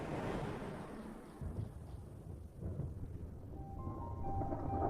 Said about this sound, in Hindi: आसमान बादलों से घिरने लगा है और बिजली भी गरजने लगी है।